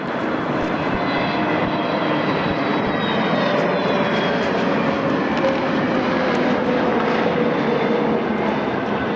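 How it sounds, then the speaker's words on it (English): An Airbus A321neo jet operated by La Compagnie arriving from Milan, a steady broadband engine roar that holds at constant loudness throughout with no voices. "The next flight is La Compagnie 300 from Milan with an A321NX."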